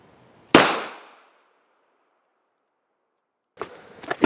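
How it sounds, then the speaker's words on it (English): A Gen 4 Glock 19 fires a single 115-grain 9mm round at a steel target, one sharp loud report with a decaying ring, followed by a few faint clanks and handling noises after a pause. "Next up is a Gen 4 Glock 19, shooting 9mm."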